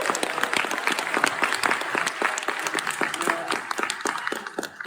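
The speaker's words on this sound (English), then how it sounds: "Give yourselves a round of applause" A theatre audience at a silent-film screening with a live organist claps in a lively burst of applause, individual hand claps distinct within the steady wash for several seconds.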